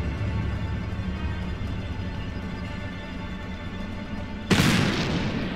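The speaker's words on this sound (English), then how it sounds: "Oh, what was that? Sounded like a gunshot." A sudden loud boom, like a gunshot or firework, bursts out near the end of a low ambient hum in the video game Black Mirror III, then rings on briefly.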